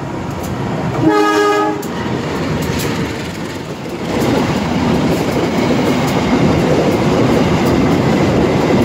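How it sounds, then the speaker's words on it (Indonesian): Serayu passenger train hauled by a CC203 diesel locomotive passing a station. A short, loud horn blast sounds first, then a steady, heavy rumble and rattle of the passing train that builds and carries on to the end. "KA Serayu sudah terdengar. Nah, itu dia menggunakan lokomotif CC203."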